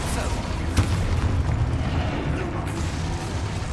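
A spell explosion in Hogwarts Legacy bursts with a loud boom, followed by a dense rumbling, crackling wash of debris and noise that stays heavy throughout.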